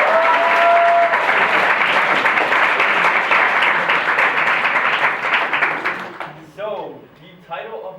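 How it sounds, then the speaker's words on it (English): A TEDx audience claps in a loud, full round of applause that holds steady for about six seconds before tapering off, after which a voice begins speaking over the fading claps. "can we just give a round of applause to everybody?"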